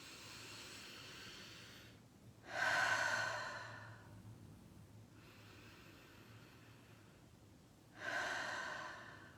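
Slow, deep breaths taken during a guided morning meditation, two long airy inhalations clearly audible over a quiet room hum, separated by several seconds of softer exhaling and near silence.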